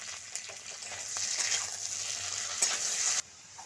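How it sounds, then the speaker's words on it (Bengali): Chili paste and poppy seed paste sautéing in a pan for a cauliflower-stem chorchori, a close, steady hiss of frying with occasional scrape and tap of a stirring spoon, ending abruptly. "পোস্ত বাটা লঙ্কা বাটা দিয়ে আমি কিছুক্ষণ কষিয়ে নেব।"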